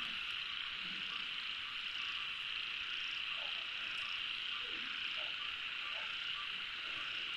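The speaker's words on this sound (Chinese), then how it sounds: "青蛙呱呱的叫" Frogs croak in summer night fields in the countryside, a dense, steady chorus with scattered nearer croaks standing out against the constant hum.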